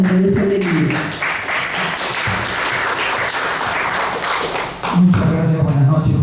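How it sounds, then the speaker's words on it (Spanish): Audience applause for a commentator at a Lima book presentation of Mirko Lauer's "Pólvora para gallinazos" at the Instituto Raúl Porras Barrenechea, a sustained burst of clapping lasting several seconds, with a speaker's voice before and after it. "Fuertes aplausos para Alejandro Susti"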